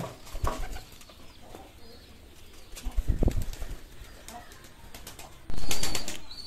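Pigeons in a colony breeding cage, with close wing flapping bursts, soft coos and scattered rustling, ending in a loud flurry of flapping.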